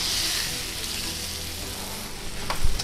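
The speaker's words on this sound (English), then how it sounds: "give it a little flip. Let that baby sear all the way around" A salt-and-peppered steak sears in a hot pan with a steady, close sizzle, and a short clatter breaks in near the end.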